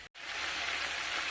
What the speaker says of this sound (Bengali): চিকেন এক পিঠ লাল লাল করে ভাজা হয়ে গেছে